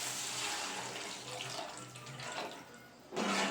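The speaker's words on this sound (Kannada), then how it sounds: "ಇದಕ್ಕೆ ಒಂದು 2 ಗ್ಲಾಸ್ ಅಷ್ಟು ನಾನು ನೀರನ್ನ ಆ್ಯಡ್ ಮಾಡ್ಕೊತೀನಿ." Water runs steadily from a tap into a pot for cooking Yippee noodles, a continuous close hiss of pouring that swells and dips, then stops abruptly and is followed by a louder clatter at the end.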